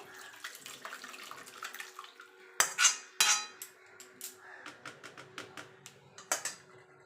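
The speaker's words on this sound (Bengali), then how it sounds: "এবার আমি ছানাটাকে ছেঁকে নেবো" Chhana being strained through a cotton cloth set in a basket over a basin, with a run of wet splashing and dripping, a few louder pours and clinks of a bowl, close and alone.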